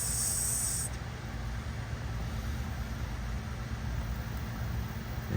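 Air hisses steadily out of an opened valve while a flat tire is being serviced: one continuous, close, loud rush of noise that runs for several seconds, with a sharper burst at the start and no talk.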